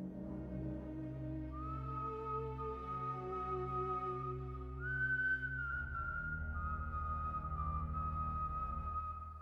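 A person whistles a slow, wavering tune, clear and fairly close, with long sustained notes and no talking.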